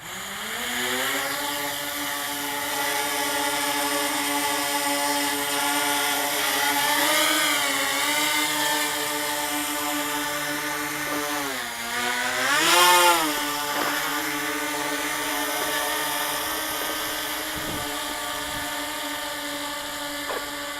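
Quadcopter electric motors and propellers spin at idle before a test flight, a steady close whining hum with strong tonal harmonics that hold for about twenty seconds and dip and rise in pitch briefly twice.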